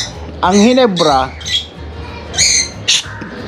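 Loud, harsh bird squawks burst out in several separate calls, close by, with a speaking voice between them and outdoor background noise.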